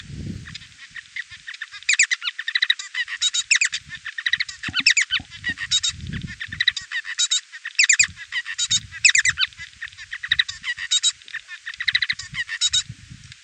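A Bengalese finch sings its song at full speed, with rapid, dense bursts of high chirps and buzzy notes, some low thuds, loud and close, with no talking.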